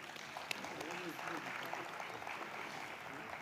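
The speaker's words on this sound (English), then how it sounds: "let's clap for them one more time" Faint, steady applause from an audience at a Middle East and Africa digital transformation summit, a continuous wash of clapping heard from a distance and lasting throughout.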